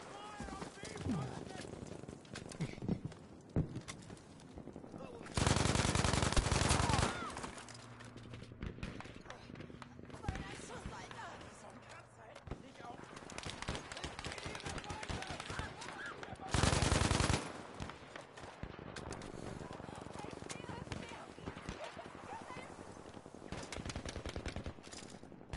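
Bursts of automatic gunfire crackle through a Battlefield V multiplayer match, with two loud sustained volleys standing out among scattered shots and explosions, while players talk over the action throughout.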